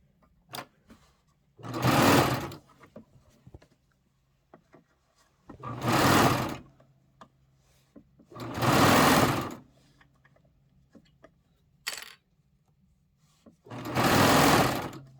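A serger overlocks fabric for a pillow back in four loud, close bursts of fast whirring, each about a second or two long, with quiet pauses and small handling clicks between them.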